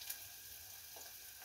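Onions sizzle gently in a pan under low heat for a Nile perch stew, a steady, faint frying hiss with no talk.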